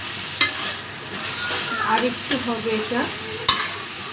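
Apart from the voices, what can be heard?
stirring chicken and cabbage curry in a pan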